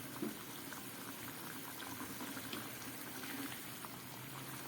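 Vegetarian curry gravy with potatoes bubbles in a pan over medium heat, giving a steady, soft, dense simmering hiss with faint pops throughout.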